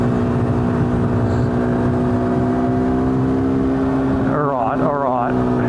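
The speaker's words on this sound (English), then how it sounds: "Back down into fourth because I don't like lugging the engine." KTM 390 Duke single-cylinder motorcycle engine held in fourth gear after a downshift, a loud steady mid-pitched drone with a constant tone throughout, joined by a brief warbling sweep near the end.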